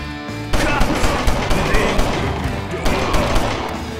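Rapid gunfire from the top-down police shooter LA Cops, dense bursts of shots sounding steadily and loudly over game music, with no talk.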